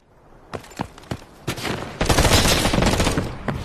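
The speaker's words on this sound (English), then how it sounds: "shots peppering on through and trying to hide behind the vehicle." Gunfire in Delta Force during a competitive 2v2 esports match: a few separate loud shots, then a dense, sustained volley of rapid fire at close range.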